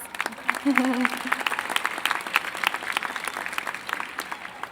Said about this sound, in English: give CSUN a round of applause